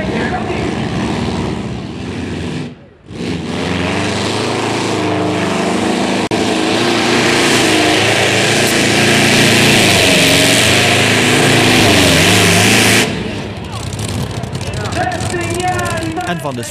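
Tractor engines roar at a tractor pulling event in Gulpen, a loud, sustained mechanical drone that briefly dips early on, then surges and cuts out near the end, leaving quieter background noise.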